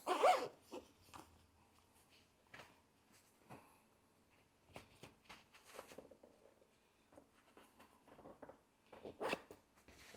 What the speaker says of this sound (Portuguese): Estou apanhando aqui do zíper.